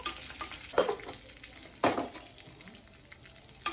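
Oil sizzles and crackles steadily as mustard seeds and curry leaves fry for a tempering, with a few sharp stirring scrapes and pops standing out near the start, middle and end.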